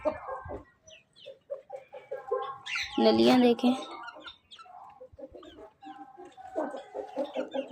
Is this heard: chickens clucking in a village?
yes